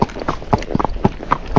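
Tennessee Walking Horse named Zorro moving in a flat walk gait outdoors, with a steady four-beat clip-clop of hooves, about a dozen close, distinct strikes in even rhythm.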